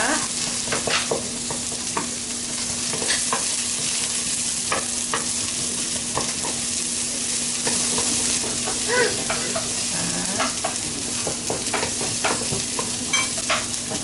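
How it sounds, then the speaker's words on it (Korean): Onions frying in oil in a pan for a myeongran cream udon, a steady close sizzle broken by frequent spatula scrapes and stirring clicks, with a constant low hum underneath. "자, 양파와 기름 두르고 넣습니다."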